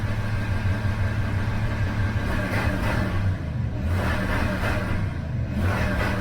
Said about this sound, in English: I'm gonna put my foot all the way on the gas, all the way down on the gas